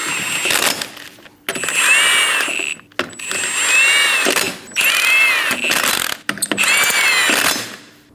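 A power tool snugs down the rear wheel lug nuts on a 2008-2015 Scion xB in five loud, close whirring bursts, each lasting one to one and a half seconds, separated by brief pauses.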